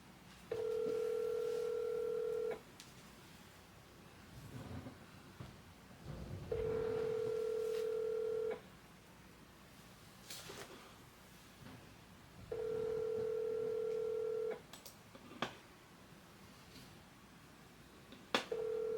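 Steady telephone tones come in regular two-second blocks separated by quiet gaps, a repeating ringback pattern heard clearly with no talk over it.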